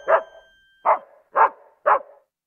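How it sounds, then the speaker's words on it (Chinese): A puppy barks four times in an even rhythm, each bark short, close and clear, with silence between them and no voices. "Puppy。"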